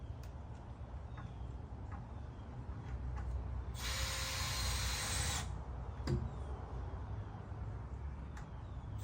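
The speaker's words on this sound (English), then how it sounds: "Drill." A power drill runs during wall framing, a single steady whirring burst of about two seconds, fairly close, amid background hiss and a few light knocks before and after.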